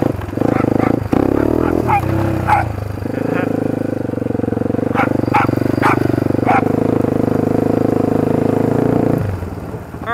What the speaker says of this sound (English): I'm gonna do a quick wheelie.